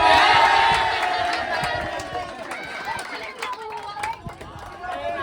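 A lively crowd at an outdoor team games event shouts and cheers for Team Red, loud at first and then settling into excited chatter and scattered yells.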